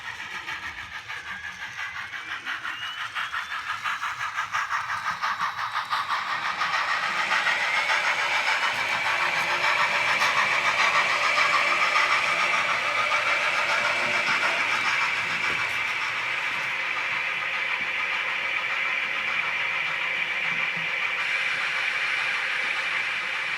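An HO scale model passenger locomotive, Sierra Passenger Engine number 3, runs with DCC sound on a layout of the 1955 Sierra Railroad: a starting rumble swells into a steady, close engine drone with a high whine that persists throughout.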